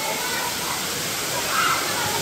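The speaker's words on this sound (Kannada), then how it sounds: "ಒನ್ ಲಾಸ್ಟ್ ಟೈಮ್ ನೋಡಿ ನಮ್ಮ ಎರ್ಮೈ ಫಾಲ್ಸ್." Ermayi waterfall near Ujire rushes in a constant, dense hiss of falling and splashing water, loud and close throughout.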